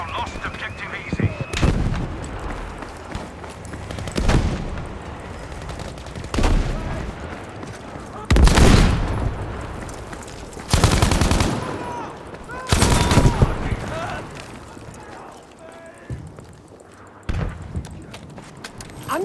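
Heavy gunfire and explosions in a Battlefield V multiplayer match, with repeated loud bursts of shots over a steady din of battle and player voices talking throughout.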